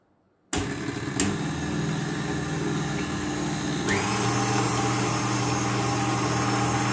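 An electric mixer switches on abruptly at high speed after a moment of silence, then whirs loudly and steadily as it beats cake batter for a tres leches cake, its tone shifting a little partway through.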